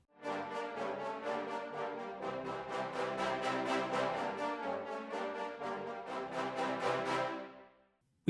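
Marcato brass from two tenor trombones and a bass trombone in a classic mix: a steady series of strong, clipped chords with a roomier, slightly softer tone, ending in a short decay.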